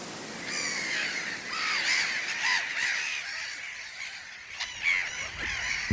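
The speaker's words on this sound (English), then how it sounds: "Mediterranean gulls have chosen an island in a salt lake to breed because here they feel safe." A breeding colony of Mediterranean gulls on an island in a salt lake calls with a dense chorus of overlapping harsh, nasal cries, steady and fairly loud, with no voices over it.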